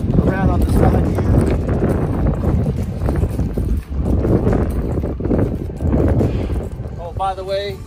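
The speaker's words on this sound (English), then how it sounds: "By the way, it is freezing out and the wind is unbelievable." Strong, freezing wind gusts roaring across a metal pole barn site, a loud continuous rush with rising and falling surges, occasional light clatter and someone talking.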